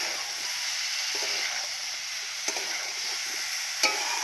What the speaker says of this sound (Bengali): দুটো দিয়ে এবার খুন্তি দিয়ে নাড়বো